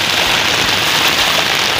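Heavy rain pours during the 2021 Chennai flood, a loud, close, unbroken roar of water hitting surfaces with dense spattering and no voices.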